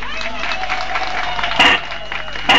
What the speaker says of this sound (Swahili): Tuongeze tena makofi